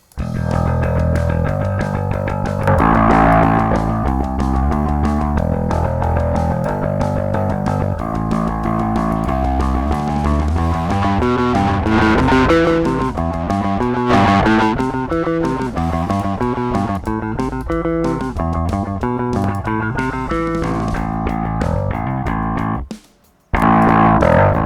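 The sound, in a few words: distortion effect on CLA Bass synth bass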